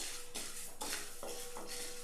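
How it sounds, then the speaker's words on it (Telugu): Toor dal roasting dry in a pan on a stove, a spoon scraping and stirring with repeated rasping strokes and gritty rattling of the lentils, steady and close. "మాడకుండా ఇలా కదుపుతూ వేయించుకోవాలి."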